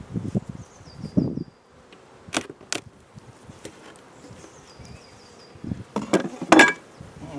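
Bees buzz steadily in an open hive, a close, continuous drone broken by sharper buzzes as single insects fly past, along with some soft rustling and knocks from handling the frames.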